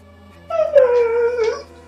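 A puppy lets out a single close, drawn-out whine lasting about a second, rising and then sagging in pitch, loud against a quiet background.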